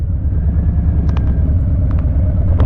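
A motorcycle engine braking with the clutch engaged gives a loud, close, continuous low rumble, with a few brief higher-pitched mechanical ticks over it and no one speaking.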